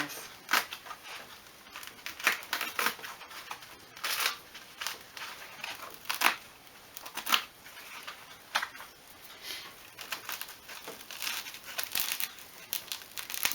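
Shadow foam for a toolbox insert is cut and pulled out in short bursts of crinkly tearing and scratchy crackles, heard close, quiet and irregular with small pauses between efforts.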